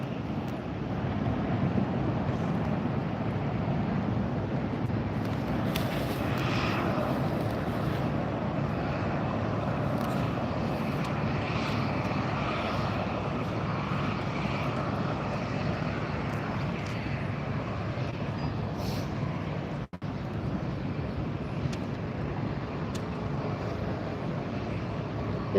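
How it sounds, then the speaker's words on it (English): A Southwest Boeing 737 airliner departs LAX with a steady, broad jet roar that holds at a fairly even level throughout, rough with wind buffeting the microphone. "This is Southwest Flight 3526 headed to Kansas City, a Boeing 737"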